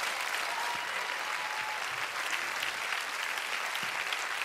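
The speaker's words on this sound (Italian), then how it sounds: "fate un applauso a tutti gli autori" Steady audience applause fills a hall at a live event with many hands clapping, dense and continuous at moderate distance, without any talk over it.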